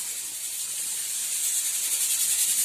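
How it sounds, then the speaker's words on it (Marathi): A pressure cooker on a home kitchen stove hisses steam, a steady, fairly loud breathy rush that grows slightly stronger throughout, heard alone. "कुकर लावलेला आहे"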